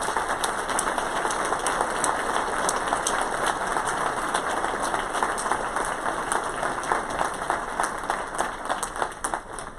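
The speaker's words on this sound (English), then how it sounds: "Know that we applaud you." A graduation audience at a spring 2019 ceremony applauds, a dense and continuous roar of many clapping hands at an even level with no pauses, heard from a distance in a large hall.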